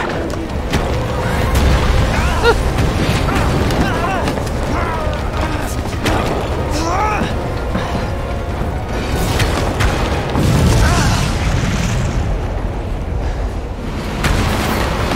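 A train rumbles past in the video game Resident Evil 2 Remake, a loud, sustained mechanical clatter of rattling metal and grinding wheels with heavy low rumble, rolling on continuously throughout with no voice over it.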